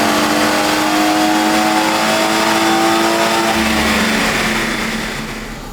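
A BMW 340i with a B58 engine screams at high revs on a dyno, one continuous loud pull that holds steady and then begins to fade as the run winds down.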